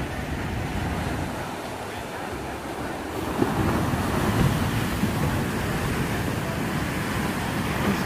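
Large ocean surf breaking on a Puerto Rico shore, a steady roar of crashing waves with gusty wind noise on the microphone; the crash swells louder and nearer about a third of the way through and stays heavy, with no talking.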